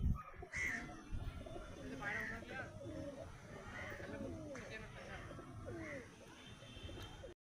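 Domestic pigeons at a home loft give soft, repeated coos in a loose rhythm, fairly faint and close, while a person talks over them.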